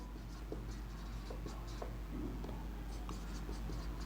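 Pen or marker writing by hand on a board during a biology lecture, a steady soft scratching with short strokes and taps repeating throughout over a low room hum, with no talking.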